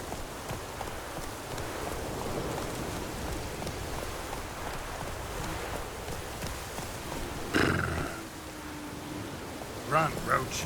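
Roach, a horse in The Witcher 3, runs through rainy in-game weather, steady rain hiss and scattered hoof clatter under it, with a brief louder burst near the end.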